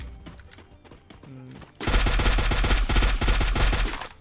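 A FAMAS rifle in a video game lets off a sudden, loud, sustained automatic burst of rapid shots, preceded by quieter game noises and brief tones.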